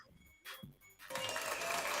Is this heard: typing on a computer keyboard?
no